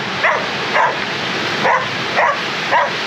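A dog barks in short, evenly spaced bursts, five or so over a few seconds, near and fairly loud against a constant background rush of waterfall spray.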